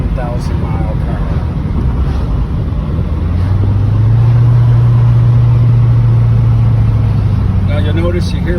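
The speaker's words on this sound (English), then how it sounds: "This car has an aftermarket Monza exhaust, which is essentially a muffler delete, and it's got 4 pipes coming out the back." A 1986 Corvette Convertible Pace Car with an aftermarket Monza exhaust that is essentially a muffler delete, quad pipes, gives a steady low rumble with wind noise while driving, swelling slightly midway, under a voice talking.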